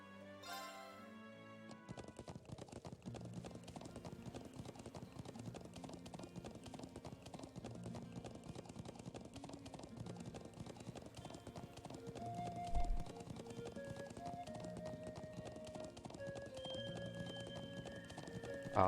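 Horse hooves clip-clop steadily in the Trails of Cold Steel video game, a continuous rhythmic trot beneath game music, close and moderately loud, with a brief louder bump near the middle.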